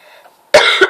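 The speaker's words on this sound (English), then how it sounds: "Hopefully my coughing didn't make you go berserk" A single harsh cough bursts out close by after a stretch of near-quiet, loud and abrupt, with a second push near its end.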